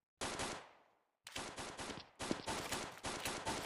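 Video game shooter gunfire in a Special Forces Group 2 match, loud bursts of automatic fire, one burst trailing off, then a short gap and several more rapid volleys close by.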